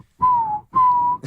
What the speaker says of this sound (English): Such a good whistle. I love that song.